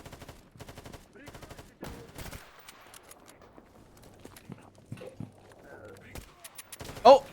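Sporadic gunshots and short automatic bursts in S.T.A.L.K.E.R. GAMMA, fairly faint and spread out, with one louder shot near the end and a voice talking over parts of it.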